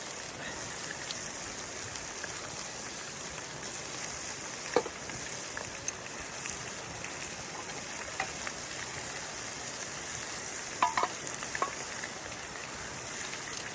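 Bacon frying on a small firebox stove outdoors, a steady soft sizzle and crackle running throughout with occasional faint pops and clicks, low and even, with no voices.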